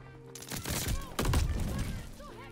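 Rapid, loud bursts of machine pistol fire in the Call of Duty: Vanguard open beta, close up and dense, tearing through about two seconds of chaotic in-game action.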